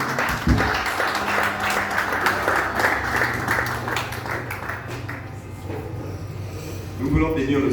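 A church congregation breaks into sustained applause to acclaim the Lord, a dense steady clapping that carries on under a voice and then fades toward the end.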